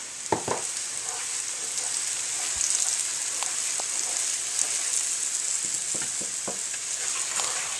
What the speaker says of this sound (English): you give them a good stir so that all different onions can get brown